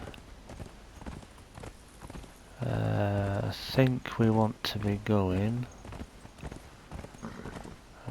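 Horse hooves clip-clop steadily while riding through a walled city in the video game Age of Sorcery, a continuous rhythmic trotting that runs beneath someone talking over it for most of the stretch.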